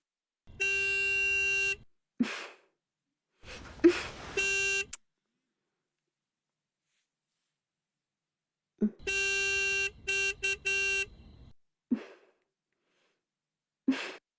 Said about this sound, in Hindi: सुनो, देखो कोई बाहर हॉर्न बजा रहा है।